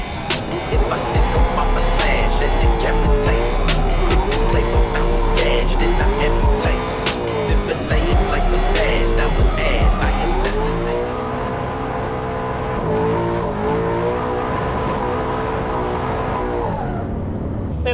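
A V8 drift car running a methanol system roars hard and steadily while its tires squeal through a long slide. The engine holds loud, droning revs with shifting pitch, then fades away near the end.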